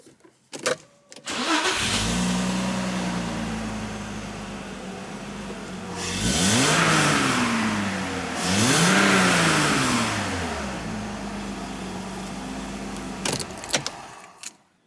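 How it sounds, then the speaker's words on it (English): An Audi Coupe 2.6 engine, already hot, cranks and catches, idles roughly, then revs up twice in quick surges before settling back to idle and shutting off. "the car was hot just now and it started up perfectly"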